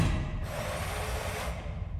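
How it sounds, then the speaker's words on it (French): Whirring hum of a laser drill in the video game Gotham Knights, a steady buzzing drone that swells in the middle over continuous low game noise, with no speech. "On peut mettre la perceuse."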